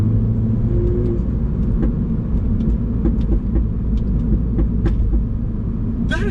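A Mini fitted with a JCW Pro Tuning exhaust, its valve open, sends out a loud, continuous deep rumble close by, with scattered small crackles and pops over the steady drone.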